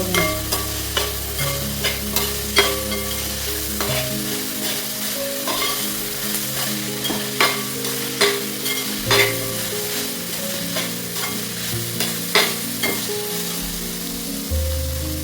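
Curry leaves and chilli powder sauté in hot oil for a chicken curry, a continuous close sizzle punctuated by regular spatula clicks and scrapes against the pan.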